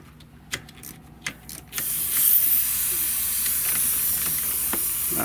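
Pressurized gas hisses steadily and loudly out of a loosened A/C line on a 2014 Ford F250, a broad sustained rush that starts abruptly after a few short clicks and keeps going.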